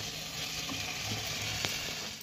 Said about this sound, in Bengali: এটা এবার ভালোভাবে আমি চিকেনটাকে এতে ফ্রাই করব।